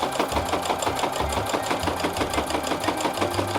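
A sewing machine stitches a tote purse handle, a fast, steady mechanical chatter close up and continuous throughout.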